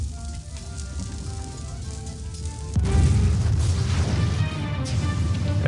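A continuous sizzling rumble, then a sudden deep boom from a ship's cannon in Escape from Monkey Island, followed by louder crackling noise.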